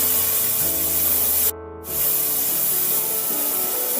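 Chopped onions with garlic sizzling in hot oil for chowmein: a loud, continuous close hiss with one brief dip partway through before it surges back.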